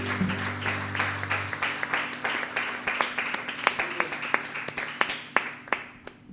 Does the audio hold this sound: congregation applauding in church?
yes